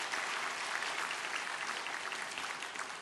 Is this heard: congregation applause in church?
yes